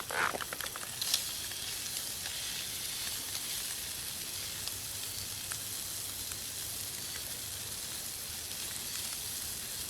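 Food fries in a pan tended with a spatula at an outdoor woodland camp, a steady close sizzle with a few clinks and scrapes at the start.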